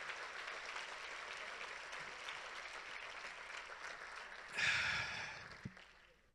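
A church congregation applauds during a morning worship service: a steady wash of many hands clapping, with a louder surge of clapping and cheering toward the end before it starts to die down.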